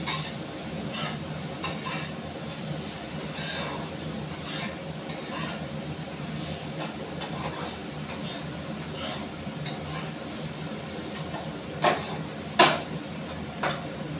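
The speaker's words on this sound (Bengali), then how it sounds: "আমি আলু ভাজাটাকে একটু নেড়ে নেব।" Fried potatoes mixed with poppy seeds being stirred in a pan, with a soft steady sizzle, intermittent scraping and a few sharp clinks of a utensil against the pan near the end.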